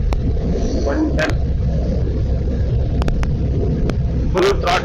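A Honda CB350RS motorcycle held at full throttle gives a steady, loud engine roar, heavily mixed with wind buffeting on the microphone, with a few brief clicks throughout.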